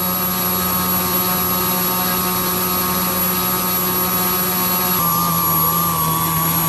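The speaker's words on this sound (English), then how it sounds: "Now we're beginning to hear some power loss from the motor." Electric motor of a Super Chipmunk RC model plane running on the ground, a steady loud whine with the pitch dropping and wavering near the end as power fades.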